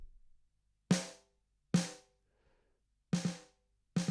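A dry snare drum struck four times, each hit short, sharp and isolated, with clean silence between the strikes and no echo trailing off.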